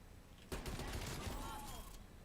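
Video-game gunfire in a quick, sustained burst of rapid shots lasting about a second and a half, fairly faint and mixed with a voice in the background.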